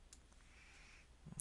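Faint, quiet computer mouse clicks, a couple of brief sharp taps near the end of a short near-silent stretch, as a form's Submit button is clicked.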